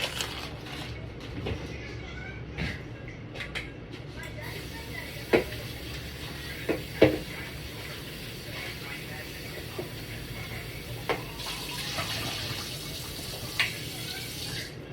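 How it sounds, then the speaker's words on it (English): Meat rinsed under a running kitchen tap, with steady water flow hissing at moderate level and occasional splashes and clunks scattered throughout. "I rinse my meats"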